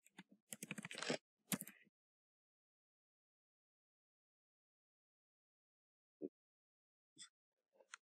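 Short bursts of keystrokes on a computer keyboard while code is typed, a quick flurry of clicks at the start and a few isolated taps later, soft and close with long quiet gaps between.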